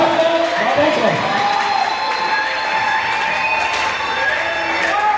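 A church congregation cheers and acclaims during a sermon: a dense, sustained crowd roar of shouts and whoops lasting throughout, loud and close, with voices overlapping.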